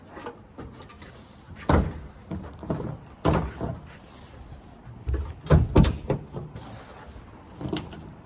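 A 2024 drift car's trunk lid shuts on a relocated-battery build with a wide body kit, giving several sharp thuds and clunks at close range, the loudest pair near the end, with quieter handling noises between and no talking.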